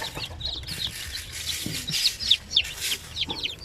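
A group of Basilan chicks peep constantly at close range while being given feed, with short high chirps overlapping in a busy, irregular chorus.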